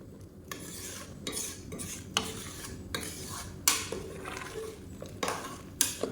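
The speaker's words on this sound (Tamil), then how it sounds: "இப்போ வந்து நல்லா கலந்து விட்டுக்கலாம்" Mutton biryani mixture stirred in a cooking pot, with close, repeated scraping strokes of a spoon against metal and steady rhythmic swishes through the thick mixture.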